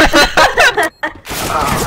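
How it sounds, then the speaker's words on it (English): Counter-Strike: Global Offensive gameplay gunfire, a rapid fusillade of bursts in the first second, then a gap, a few more shots and a continuous rumble of game noise, with players' voices mixed in. "Shoot him!"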